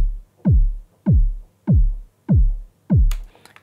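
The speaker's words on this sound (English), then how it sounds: "So this is a body kick because I wanted even more body from it." Layered body kick drum sample in Logic Pro, five deep, booming kicks with a quick downward pitch sweep, evenly spaced a bit over half a second apart, loud and dry with nothing else playing.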